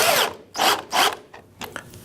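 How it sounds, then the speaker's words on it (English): A power drill drives a bolt into an indoor therapy gym frame in several short, loud bursts close by, with brief pauses between them and no voices. "Again, for speed, I'm going to do this with the power drill."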